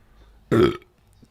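A single loud, close burp lasting about a quarter second, rising abruptly out of near silence and cutting off just as quickly.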